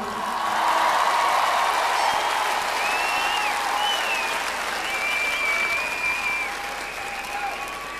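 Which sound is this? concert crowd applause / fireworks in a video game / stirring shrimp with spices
concert crowd applause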